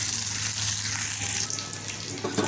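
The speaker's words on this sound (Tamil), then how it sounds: "வெங்காயத்தை நல்லா வதக்கிக்கலாம்." Small shallots sautéing in a pan with curry leaves for tiffin sambar, a dense continuous sizzle and crackle heard up close, steady with slight stirring variations.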